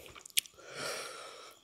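Crunchy, spicy chicken feet salad being chewed up close: a sharp bite, then soft wet mastication and a breathy rasp, faint and with no talk.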